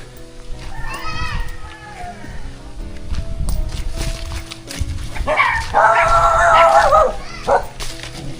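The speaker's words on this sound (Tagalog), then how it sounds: "May aso. Dog fight." Dogs barking and scuffling in a fight in a rural Philippine province, yips and growls giving way to a loud burst of snarling and yelping, with people and children talking close by.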